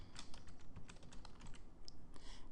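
Keys tap quickly and steadily on a computer keyboard while a teacher enters a question into Moodle, a close, quiet, irregular clatter with no talking.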